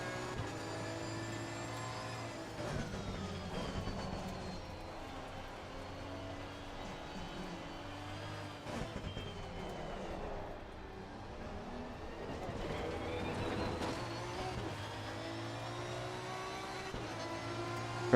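Porsche Cup race cars at the Paul Ricard circuit, their engines droning steadily and shifting pitch as they rise and fall, moderately loud and continuous throughout.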